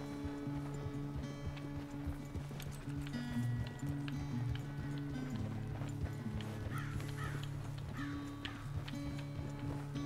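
Horse hooves clip-clop steadily in Red Dead Redemption 2, a continuous walking rhythm under a droning musical score, with faint creaks and ambient game sounds and no voices.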